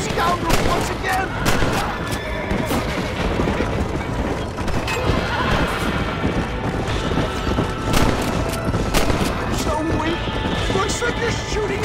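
Gunfire in Red Dead Redemption on the road to Armadillo, repeated shots mixed with horse hoofbeats and a loud battle din, with voices over it.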